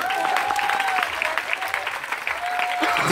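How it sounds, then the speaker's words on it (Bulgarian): A television studio audience applauds a guest named Irena on a comedy show, a lively spread of clapping with whooping, tonal voices rising above it throughout. "Аплодисменти за Ирена, скъпи приятели!"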